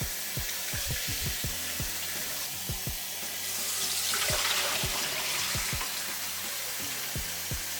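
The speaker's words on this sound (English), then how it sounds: "The first rinse is just a cold water rinse" Cold water runs from a tap with a steady splashing hiss as chicken is rinsed, joined by intermittent clunks and knocks of items being handled nearby.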